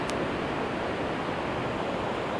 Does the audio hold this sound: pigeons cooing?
no